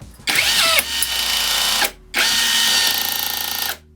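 A Revolt cordless battery rivet gun sets a 4x10 rivet in two loud, close bursts of whirring motor drive, each over a second long and separated by a short gap, with a snap at the end of each cycle.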